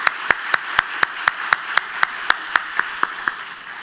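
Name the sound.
church congregation applause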